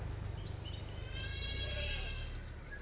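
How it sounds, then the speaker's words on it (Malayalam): A large, meaty Malabari goat with short stubby horns, weighing about 30 kilos, gives a wavering drawn-out bleat, close and fairly loud over low background noise at a livestock sale. "നല്ല കനുള്ള ആടാണ്."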